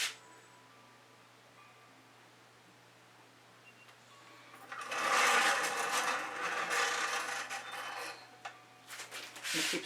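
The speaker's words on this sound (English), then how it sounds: "I'm going to keep scraping off my card." A card scrapes wet fluid acrylic paint mixed with Floetrol off a surface, rasping in short bursts after a few quiet seconds, close by and fairly soft.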